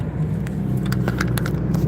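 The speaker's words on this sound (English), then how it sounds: "Car coming up quickly." A car approaches quickly along a country road past an old farm, a steady low engine and tyre rumble building close by, with no talking.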